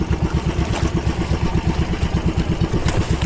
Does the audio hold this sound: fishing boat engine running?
yes